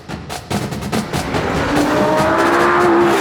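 A Lamborghini supercar drives up the Stelvio Pass in the Alps, its engine building from a rough, pulsing growl to a loud, steady rising whine as it accelerates close by.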